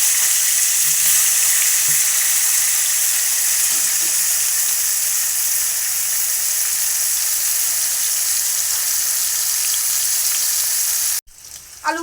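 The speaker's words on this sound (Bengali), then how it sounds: "আলুগুলো ভাজা হয়ে গিয়ে তুলে নেব।" Potatoes frying in hot oil in a pan for a homemade chicken biryani give a steady, close, broadband sizzle throughout, with a few faint utensil clicks and a brief break near the end.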